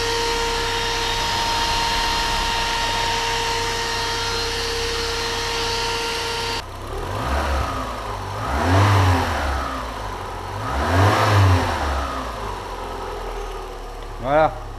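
A Renault Clio 16S engine runs with its radiator fan whirring steadily, then the fan cuts off and the engine is revved twice in smooth swells, close and fairly loud, with brief talk.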